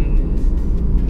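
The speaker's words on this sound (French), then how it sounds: "vous puissiez entendre le son du moteur qui est vraiment bien travaillé par BMW" A BMW Z4 E89 convertible with the roof down gives a steady, loud engine rumble that stays constant and close throughout the short stretch.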